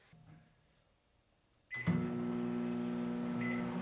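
A home microwave oven is set, with quiet button presses, then its motor starts into a steady loud hum with a faint higher tone.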